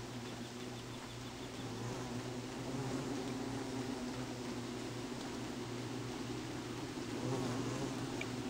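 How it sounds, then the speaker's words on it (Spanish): Bees from Don't Starve Pocket Edition buzz continuously, a steady droning hum that holds at an even, fairly quiet level from start to end with no speech. "Hay que estar pendientes de las abejas que nos están siguiendo."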